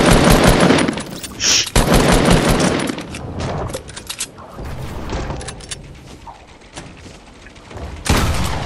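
Fortnite video game gunfire: rapid automatic bursts and sharp shots crackle loudly in the first seconds, then thin into scattered, quieter shots and clatter before a final loud burst at the end.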